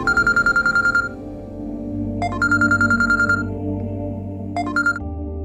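A mobile phone ringtone chirps in quick repeated electronic beeping bursts, pausing and starting again in three rounds, over a low background music bed.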